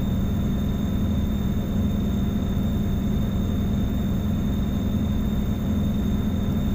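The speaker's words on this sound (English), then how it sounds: "there's a continuous kind of rumbly sound that it makes that doesn't really change with RPM" A truck engine in American Truck Simulator gives a continuous low, rumbling drone with a faint high whine above it, steady and unchanging throughout, with no voices.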